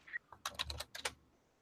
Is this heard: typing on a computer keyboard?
yes